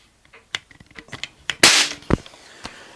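A vintage Diana Model 1 air gun fires with one sharp, loud crack among several smaller mechanical clicks and taps, close by, followed by a second thud.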